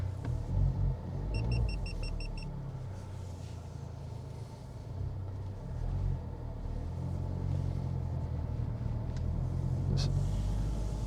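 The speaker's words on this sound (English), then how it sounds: "We've had the car running for about 5 minutes, just warmed up." A warmed-up 2021 Honda Civic Type R turbo engine idles with a deep, steady rumble, close by, with a brief electronic chime early on.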